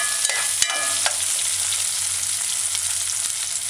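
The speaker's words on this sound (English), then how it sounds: "cube pieces of sweet potato. And just stir fry this" Sweet potato cubes stir-frying with diced scallion in a pan, giving a bright, steady sizzle with a couple of quick utensil taps near the start.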